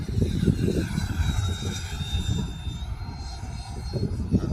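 A Freewing F-22 90mm RC jet makes a slow low pass, giving a steady, fairly close roar with a thin whine riding over it for several seconds, no voices.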